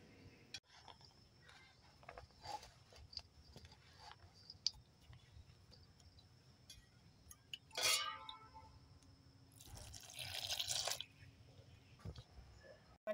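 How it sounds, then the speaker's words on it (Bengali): Flour dough for Dhaka-style paratha is kneaded by hand with ghee and water, giving soft wet squishing and sticky clicks up close, with two louder bursts of slapping and squelching partway through and no talk. "এবার আমি অল্প অল্প করে জল দিয়ে ভালো করে মেখে নেব।"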